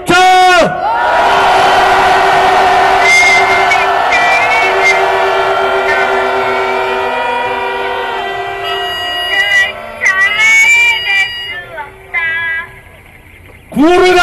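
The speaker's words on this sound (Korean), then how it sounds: "우리 함성을 지르면서 촛불을 켜주셨으면 감사하겠습니다." A large crowd shouts and cheers together at an outdoor candlelight vigil for the safe raising of the Sewol ferry, a loud sustained roar of many voices with rising whoops that thins out toward the end.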